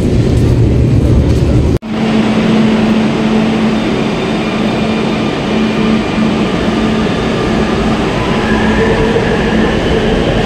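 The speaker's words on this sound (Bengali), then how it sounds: "আমরা মেট্রোর জন্য ওয়েট করতেছি।" Metro train sounding loudly at a station platform in Barcelona, Spain, a steady rumbling roar with rising whine tones after a brief cut near the start, no talking.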